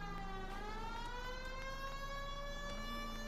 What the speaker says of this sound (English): I'm gonna turn the siren on as well, so we have a free run.